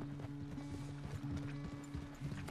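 A horse gallops in the video game Red Dead Redemption 2, its hoofbeats coming in a quick, steady rhythm. The pounding is close and continuous, and it plays over a low ambient game hum.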